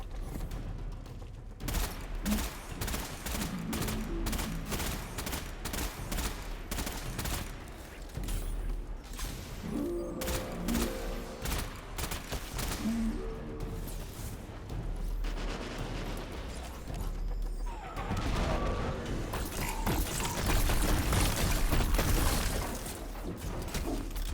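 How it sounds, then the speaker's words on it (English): Grenade and rocket fire in the video game Destiny 2, dense repeated blasts and rumbling explosions over a continuous layer of game music and effects. "So I need to hit that thing with heavy ordnance, grenades or rockets."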